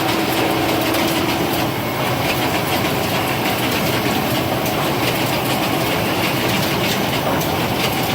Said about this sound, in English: Go ahead and it's accumulating them here. Going over to jog them and fold them there.